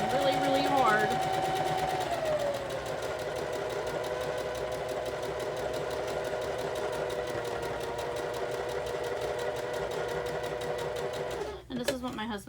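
A sewing machine runs fast and steady while quilting a Christmas in July quilt block, a continuous rapid mechanical hum and clatter that stops near the end, with someone talking over it.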